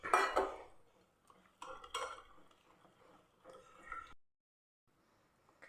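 A spoon mixes a smooth coconut and rice flour batter in a bowl, making intermittent clinks and wet scraping strokes up close, with short pauses and a quiet stretch at the end.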